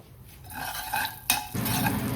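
Whole spices and turmeric sizzle in hot oil as a spoon scrapes and stirs the pan, a close, steady frying hiss with brief clinks of utensil against metal.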